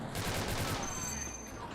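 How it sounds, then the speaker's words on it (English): Rapid bursts of video game gunfire crackle in a dense, steady volley, fairly loud and close, with faint background voices underneath. "I know they're shooting at you"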